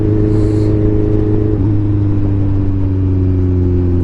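A 2016 Kawasaki Ninja 1000 motorcycle with a full-system aftermarket exhaust drones steadily at cruising speed, loud and close, its engine note shifting slightly in pitch partway through under constant wind rush.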